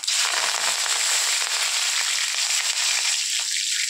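Mustard seeds and curry leaves crackle and spit in hot oil in a pan, a dense, steady sizzle of rapid pops that holds loud and close without a break.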